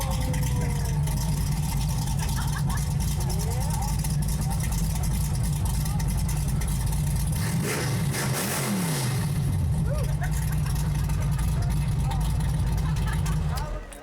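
A car engine runs steadily with a low rumble throughout, rising briefly as if revved, while people talk faintly in the background at an outdoor car show.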